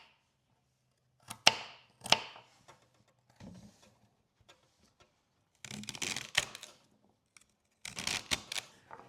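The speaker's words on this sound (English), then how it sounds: "I'm going to get to chopping these and peeling the potatoes." Vegetables such as carrots, celery and potatoes being chopped for a hog maw stuffing in a garage kitchen, sharp knife-on-board strikes in two early clusters, then sparse taps and two denser bursts of quick chopping.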